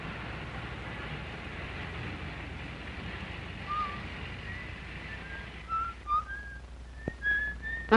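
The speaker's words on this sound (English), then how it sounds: "That's right, whistle." A man whistles a tune in a wartime training film, short clear melodic notes rising out of a hissy, noisy background, faint at first and becoming more distinct toward the end.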